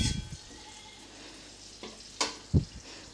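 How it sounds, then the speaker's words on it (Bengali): Whole spices frying in a pan over a low flame for a Bengali aar fish kalia, a soft, even sizzle with a few sharp utensil scrapes and knocks toward the end. "আঁচটা অবশ্যই লো ফ্লেমে করে এটা ভাজবেন।"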